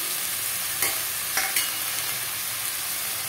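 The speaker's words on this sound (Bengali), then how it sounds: "যে সব মশলার উপকরণগুলো দিয়ে এটাকে ভালো করে আমি খুন্তি দিয়ে কষিয়ে নেব" Ground spices — cumin, chilli, turmeric and ginger — stir-fried in a pan with a metal spatula for a Bengali banana-flower and prawn dish; a steady soft sizzle with a few sharp scraping clicks near the start, no voices.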